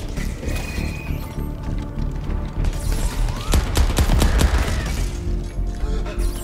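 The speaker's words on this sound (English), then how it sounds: "What the heck is that shooting?" Gunfire in Crackdown 3 co-op play, a cluster of sharp rapid shots and clanking mechanical impacts in the middle, loud and close over dense game noise.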